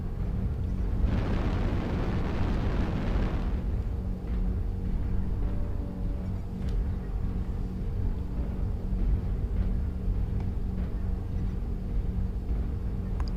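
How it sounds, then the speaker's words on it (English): A deep, roaring airstrike explosion in MechWarrior Online swells early and fades into a low rumble, leaving a steady mechanical hum beneath scattered faint clicks. "Airstrike online."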